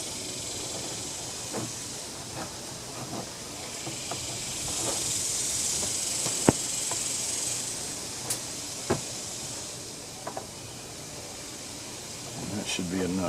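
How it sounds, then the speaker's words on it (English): A can of WD-40 sprays with a sustained, fairly quiet hiss onto a string trimmer's fuel line, with faint clicks and handling noises around it. "And a little WD-40 is always nice to have."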